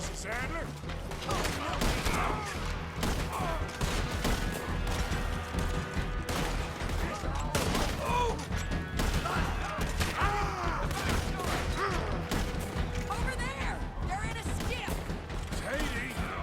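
Gunfire from the Red Dead Redemption 2 video game, repeated shots and clattering mechanical clicks layered over game music and ambience, with voices talking throughout.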